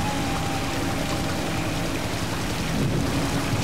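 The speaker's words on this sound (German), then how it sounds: "Es blitzt. Es donnert." A thunderstorm in the video game Battlefield Bad Company 2, with steady rain hiss and a low rumble of thunder swelling near the end, no voices.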